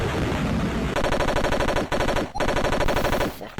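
Rapid bursts of gunfire from the Nightbreed action game on the Commodore Amiga, loud and continuous, broken by two brief gaps, with no talk.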